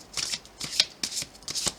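Tarot cards being shuffled by hand for a reading: repeated quick riffling bursts, close and crisp, in an uneven rhythm of short flurries with brief pauses, no talking.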